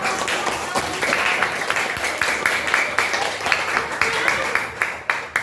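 Scattered clapping and applause rattle on throughout, mixed with voices talking over it.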